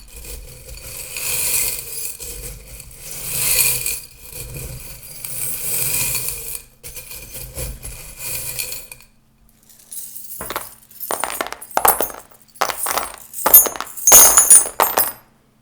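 Small charms cast for a divination reading, first shuffled with a soft rustling rattle, then scattered in several sharp clinks and clatters as they land close by, with no talking.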